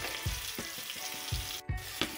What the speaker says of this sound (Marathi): हिरव्या मिरच्या सुद्धा मी चांगल्या प्रकारे तेलामध्ये मिक्स करून घेत आहे